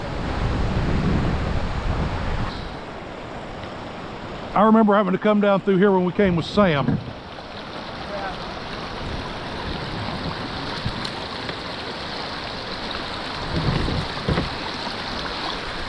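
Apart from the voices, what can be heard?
river water flowing downstream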